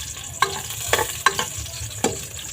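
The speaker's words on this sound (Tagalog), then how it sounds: "Unahin natin itong bawang. Ayan. Haluin muna natin." Garlic sautés in a hot pan for a pork, kadyos and jackfruit dish. A steady sizzle runs underneath, broken by four distinct scraping stirs at an uneven pace.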